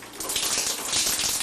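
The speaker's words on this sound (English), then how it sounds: "turn the water on." A hotel room water tap runs at full flow, a loud, steady rushing splash close by with no talking.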